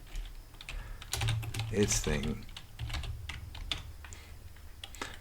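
Rapid typing on a computer keyboard, with close, irregular key clicks running throughout while someone speaks briefly over them.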